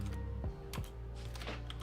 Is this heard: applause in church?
no